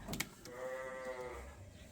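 A sheep gives a single drawn-out bleat on a farm, fairly close and clear, after a couple of brief knocks at the start.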